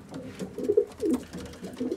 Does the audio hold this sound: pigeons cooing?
yes